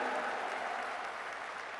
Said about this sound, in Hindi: हरियाणा के लिए जोरदार तालियां बजाइए।